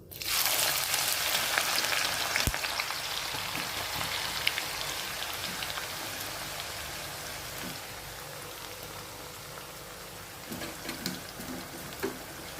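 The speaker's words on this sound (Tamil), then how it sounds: "எண்ணெய் வந்து சூடாயிடுச்சு. இப்போ வெங்காயம் போட்டுக்கலாம்." Onions frying in hot oil in a clay pot, a steady close sizzle with faint crackles that gradually softens over time, heard alone without talk.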